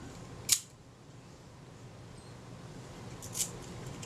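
A Retina IIa camera shutter fires at a set speed, giving two sharp, crisp clicks about three seconds apart, close and isolated against a quiet room.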